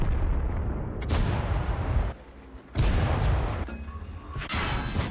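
Tank cannon fire in World of Tanks, an HE shell from the FV4005 tech line: loud booming shots, one at the start and others near the second and third seconds, each followed by a rumbling decay, with no speech.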